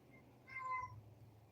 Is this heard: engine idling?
no